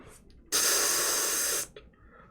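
A voice imitates a can of Febreze being sprayed: one loud, sustained breathy hiss lasting about a second, framed by softer breaths before and after.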